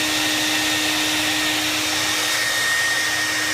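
A vacuum cleaner runs steadily and loudly with a constant whine, sucking up mahogany wood chips at a lathe, no voices.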